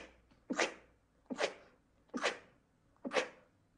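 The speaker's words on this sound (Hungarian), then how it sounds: "Tüsszög is." Four sharp, breathy sneezes come at a steady rhythm about nine-tenths of a second apart, each a sudden burst trailing off quickly, fairly faint and heard alone.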